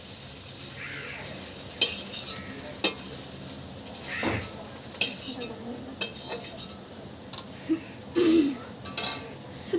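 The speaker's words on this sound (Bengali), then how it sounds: "এখন মাছ ভাজা হয়তো বসাবে।" Frying in a home kitchen where greens and lotus stems have just been fried and fish is about to go in, with a continuous sizzle under repeated clinks and scrapes of a utensil against pots and pans.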